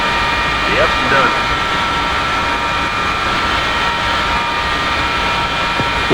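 An F-4E jet engine spools up in Digital Combat Simulator, a loud steady whine and roar with a sustained high tone throughout, near and constant, with brief voice chatter at the start.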